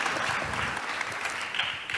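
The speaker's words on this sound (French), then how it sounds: "On vous applaudit, effectivement." Applause from an audience at a public policy debate, a steady dense patter of many hands clapping throughout, moderately loud with no voices on top.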